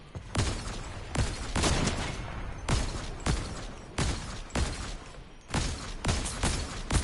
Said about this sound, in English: I got 2 sniper shots on him